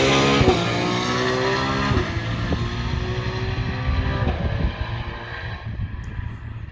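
A Porsche 911 GT3 R race car on a track, its loud engine screaming past nearby and shifting through gears before fading into the distance, with no talk.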